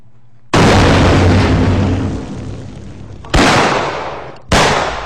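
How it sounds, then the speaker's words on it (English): A mine explosion sound effect layered from a shotgun blast and clattering metal fragments: a loud booming burst with a long decaying tail, then two more sharp blasts in quick succession, with no talking. "we've got our shotgun blast, and we've got some metal fragments and some other things, and we combine them all together into what is our mine explosion sound"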